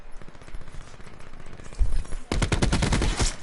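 Rapid automatic gunfire in Black Ops 4, loud and close, bursting in at mid-clip as a dense volley of shots after quieter muffled thumps and game noise.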